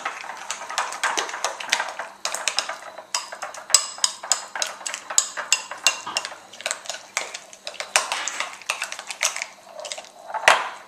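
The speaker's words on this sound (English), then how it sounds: "Now I'm going to smash the roasted garlic cloves here, and then just sort of mix it all together." Roasted garlic cloves are mashed and mixed with oil in a bowl, giving a steady run of close, sharp clinks and scrapes of utensil against dish, with no talking.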